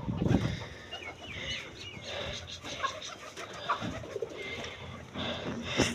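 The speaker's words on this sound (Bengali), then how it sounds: "ভিতরে হচ্ছে আম্মুর 4টা মুরগি" Four hens kept in a netted coop on a rooftop, clucking and cooing in short bursts at moderate distance, with a little faint talk in the background.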